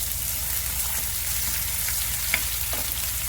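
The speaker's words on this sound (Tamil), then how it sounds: "இது லேசாக வறுத்துக்கணும்." Onion fries in a pan with a constant, close sizzle and light crackle, with no voices.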